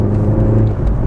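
A VW Golf GTI Clubsport S pulls hard in second gear on a road drive, a loud close engine drone rising briefly.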